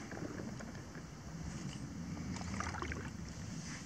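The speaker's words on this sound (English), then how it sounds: "while I'm just having a little slow paddle" A Galaxy Sturgeon kayak glides slowly through calm water on an evening paddle, with faint soft dips and drips of the paddle over quiet wind and outdoor ambience.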